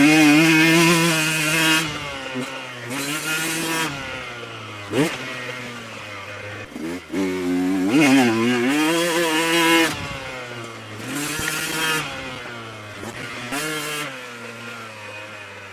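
A dirt bike's engine drones loud and close in third gear out of a turn, its pitch rising and dipping with light, uneven throttle through the ride.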